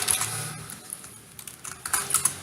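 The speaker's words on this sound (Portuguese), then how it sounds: "O primeiro é clicando e já digitando o texto" Someone types text on a computer keyboard: a run of quick, light key clicks at an uneven rhythm, close by and fairly quiet. No speech is heard.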